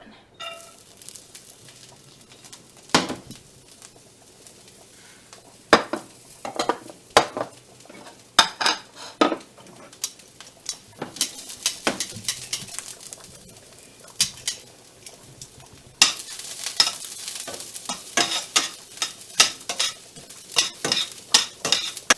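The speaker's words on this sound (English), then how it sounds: "I'm going to add a little bit of sesame oil again. And I've got some carrots, and I'm going to throw those on." Carrots stir-fried in sesame oil in a pan, with a low sizzle under frequent clinks and scrapes of a utensil against the pan in an irregular stirring rhythm, up close and growing busier toward the end.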